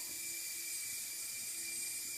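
A helicopter's engine runs at a steady pitch, giving a constant high whine over a bed of hiss, close and unchanging, with no voices.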